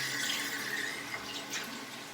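Hot water runs steadily from a tap into a sink, a continuous broadband hiss and splash at moderate level with no talking.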